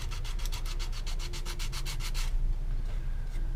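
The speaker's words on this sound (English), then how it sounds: "Let's see if I can flat sand it just a bit and see where that puts us." Flat sanding a plastic model car body of an AMT Ford Thunderbird kit, a close, loud run of about fourteen quick rhythmic rasping strokes, then a short pause.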